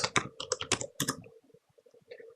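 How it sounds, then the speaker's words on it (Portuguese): Someone types a name on a computer keyboard: a quick close burst of crisp key clicks, then a few softer, sparser taps trailing off. "Vou digitar meu nome, Carlos."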